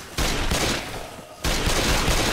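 Rapid gunfire from a zombie survival video game, two loud, dense bursts of overlapping shots separated by a short lull, close and filling the scene with no talk over it.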